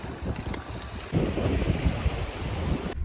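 Strong gusty wind whipping along a rocky Greek seashore, with a low rumbling roar of buffeting and surf that swells louder midway and stays rough and continuous.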